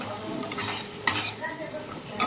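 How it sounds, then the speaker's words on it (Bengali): Spice masala for yogurt okra fries in a pan over medium heat, giving a constant sizzle with repeated spoon stirs and a couple of sharp clinks of metal on the pan. "ভালো করে মশলার সাথে আমি মশলাটাকে কষিয়ে নেব।"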